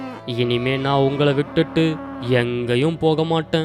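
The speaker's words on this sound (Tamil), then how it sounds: "அப்போ திடீர்னு மாட்டோட சத்தம் கேக்குது." A cow moos in an animated Tamil story, its long drawn-out calls rising and falling over and between a character's emotional speech.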